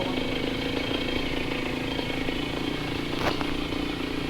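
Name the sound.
Honda H100S 100cc motorcycle engine idling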